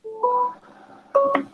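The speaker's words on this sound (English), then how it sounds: "And now it keeps ringing on my end." A telephone line gives tonal ring or dial signals during a call, short steady beeps with a pause between, close and clear with no talking.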